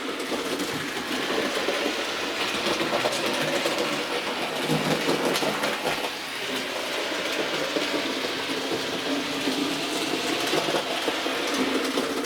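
A Bachmann A2 model locomotive runs steadily around a layout with a continuous rolling rumble and light rail clatter, close and even, with no talk.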